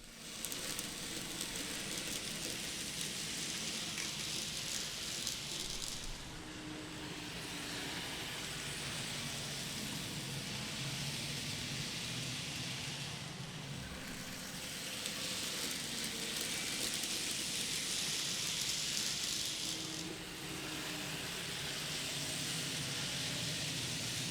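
Kato locomotive pulling Microtrains cars around a hobby shop model layout, a faint continuous rolling hiss and hum with slow swells as the train passes and recedes, no talking.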